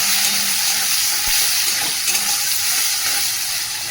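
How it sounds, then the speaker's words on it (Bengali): Cumin seeds, a bay leaf and chopped onion frying in hot oil in a home kitchen, giving a steady, close sizzle and crackle that runs the whole time with no talking. "এই যে ফোড়নে দিয়ে দেবো জিরে তেজপাতাটাকে একটু ফোড়নটা ভেজে নেবো, একটু পেঁয়াজ কুচি দিব"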